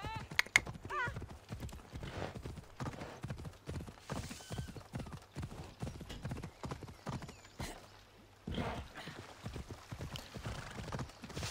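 A horse in the Assassin's Creed Odyssey video game clip-clops along in a fast, steady hoof rhythm, with occasional whinnies and someone talking over it.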